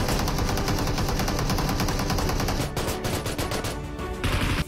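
Rapid bursts of gunfire from the PUBG video game, loud and dense throughout with a brief dip near the end, and no talking over it.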